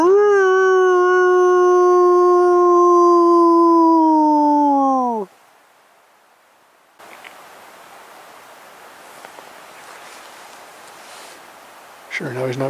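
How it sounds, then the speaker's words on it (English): Wolves in the East Kootenay mountains give a long, loud, sustained howl with steady wavering pitch for about five seconds, followed by quiet wind-like hiss, then a brief rising howl begins again at the end. "those wolves are back. They're making a real eerie sound."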